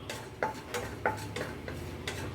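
Cardamom, cloves and peppercorns with a piece of cinnamon frying in a pan, with several sharp spoon clicks and light scrapes against the pan at an uneven rhythm over a faint low background.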